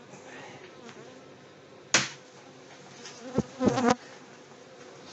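A steady close hum of many bees buzzing, broken by a few sharp clicks and one brief spoken word.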